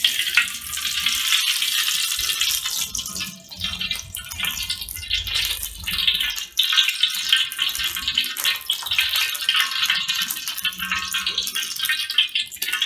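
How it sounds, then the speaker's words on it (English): A cup of oil sizzling and crackling steadily in a hot pan while cooking a large batch of chicken, loud and continuous with some rattling and watery spatter throughout. "Into a hot pan, I am adding 1 cup of oil."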